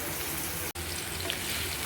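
Steady, dense sizzling of onions frying in a pan, a continuous close hiss with one brief dropout.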